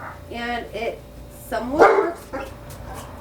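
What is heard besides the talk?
dog barking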